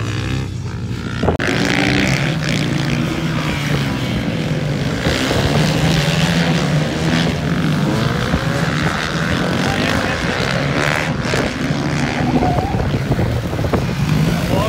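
A supermoto motorcycle laps a training track in Emmen, its engine a loud, continuous drone that rises and falls in pitch as the rider accelerates and backs off, heard alone with no talking.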